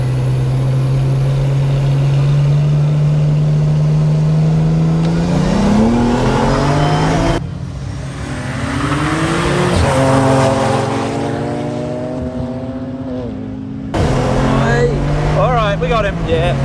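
A race car engine revs hard and accelerates, pitch climbing through gear changes with abrupt shifts, loud and close throughout, with excited voices talking over it at times.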